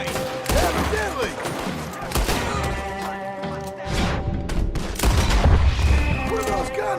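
Heavy gunfire breaks out in Red Dead Redemption 2, with repeated loud shots and crashes in rapid bursts amid a chaotic fight. Voices can be heard in the mix.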